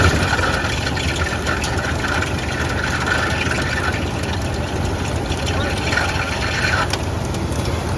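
An old Dodge engine runs loud and close, a dense rumbling roar that holds steady with slight rises as it is revved, while people talk over it.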